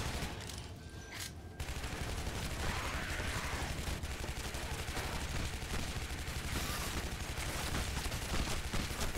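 Submachine gun fire in the video game Shadow Warrior, a dense, continuous loud burst of rapid gunshots running for several seconds after a brief quieter lead-in, with no speech over it.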